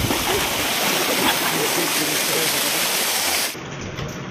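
Cool water flowing and splashing at a bathing spot, a loud continuous rush close by that drops suddenly in level near the end, with voices faintly underneath.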